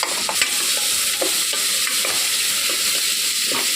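Onion frying in oil with cashews, cinnamon, cloves and bay leaf: a dense, steady sizzle throughout, broken by repeated soft scraping strokes of stirring, close and fairly loud.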